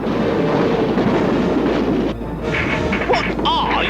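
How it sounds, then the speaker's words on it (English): A runaway train in a video game rumbles and clatters loudly with crashing impacts, then drops briefly and resumes under game voices and effects. "Trying to stop this train."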